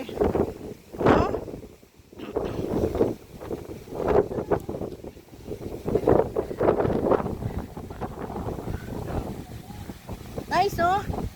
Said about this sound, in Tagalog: kung maririnig nyo po yung original sound na napakalakas na hangin